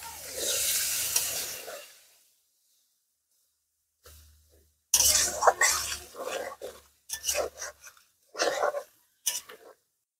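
Spice paste sizzling and being stirred in a pan for a picnic chicken curry. Bursts of hissing frying with scraping strokes alternate with short silences, fairly close, and no one speaks.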